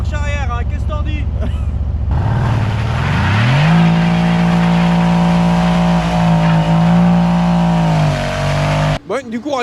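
Mercedes-AMG C63s engine revving in snow: a loud, steady high-revving roar held for several seconds, rising in pitch then cutting off abruptly, close to the car.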